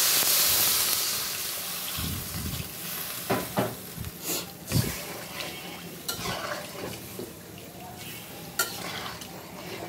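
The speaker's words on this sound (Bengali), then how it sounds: "বেশি জল দিব না, অল্পই জল দিব" A little water goes into a sizzling curry pot of unfried vegetables, and the frying hiss breaks into several splashy bursts and bubbling, close and fairly loud.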